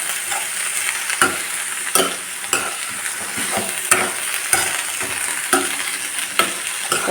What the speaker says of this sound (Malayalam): സ്റ്റൗ മീഡിയത്തിൽ വെച്ചിട്ട് ഇത് ഒന്ന് രണ്ട് മിനിറ്റ് ഇങ്ങനെ നമ്മൾ വഴറ്റിയെടുക്കണം കേട്ടോ